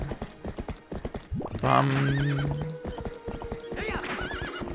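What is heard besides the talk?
horse Epona galloping in Zelda Twilight Princess video game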